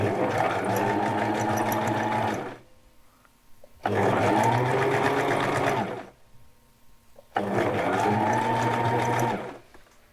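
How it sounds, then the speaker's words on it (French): A sewing machine stitches elastic onto a garment in three loud, close bursts of fast whirring, each a few seconds long, separated by brief near-silent pauses, with no talking. "J'aligne bien et je vais coudre du côté gauche."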